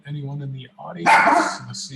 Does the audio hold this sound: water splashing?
no